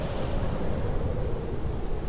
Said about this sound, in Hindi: इस तरह बारिश में कौन चीख रहा है?